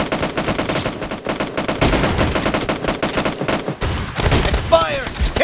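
Rapid shotgun blasts and gunfire ring out in a frantic video game firefight, dense and loud throughout with a brief pause near the end before a final burst.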